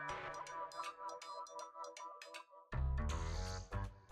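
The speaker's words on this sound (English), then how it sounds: "The hell, my phone just started ringing." A phone ringtone plays a melodic electronic tune, light chiming notes that give way to a louder, fuller burst with a bass part, close and clear with no talk over it.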